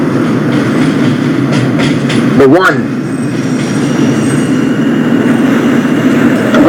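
An R160 subway train runs on the J line toward Broad Street in the OpenBVE train simulator game, with a loud steady rumble of wheels on track, a brief squealing sweep partway through, and someone talking over it.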